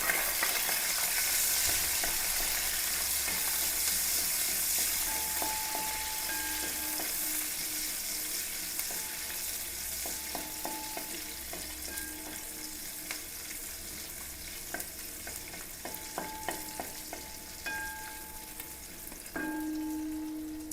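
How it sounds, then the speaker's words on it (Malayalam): Whole cinnamon, cloves and cardamom frying with onion in a hot pan, a steady close sizzle broken by occasional pops and the clink of a stirring utensil, with no voices. "ഇതിലേക്ക് ഒരു പട്ട, കറയമ്പ്, ഏലക്ക ഇതെല്ലാം ഒരു 5-6 വെച്ച് ഇട്ട് പൊട്ടിക്കാം"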